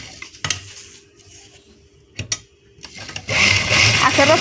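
A sewing machine stitching hook loops onto the front button placket of a blouse: a few sharp clicks and short mechanical bursts, then a louder, denser run of stitching near the end.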